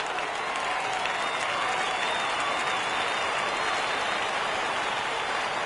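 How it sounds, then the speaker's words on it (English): A baseball crowd cheers and rises for a 3-2 count, a dense, sustained roar of applause and voices that stays at an even level from start to finish. "Crowd gets up for the 3-2"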